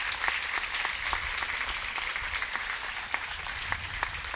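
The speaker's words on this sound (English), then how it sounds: "Now applaud for those student athletes." A convocation audience applauds student athletes, dense steady clapping filling the hall at moderate loudness without a break, a few sharper individual claps standing out.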